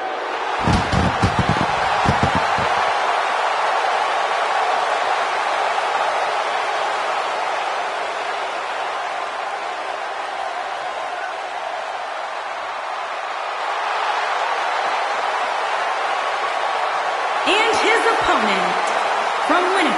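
A large arena crowd roars steadily in the WWE 2K18 wrestling video game during an entrance, a continuous loud wash of cheering with brief thumps at the start and commentary voices at the end.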